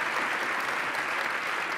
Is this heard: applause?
yes